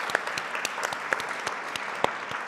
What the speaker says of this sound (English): we should give her a big round of applause.